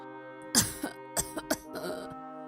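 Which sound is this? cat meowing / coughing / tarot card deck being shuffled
coughing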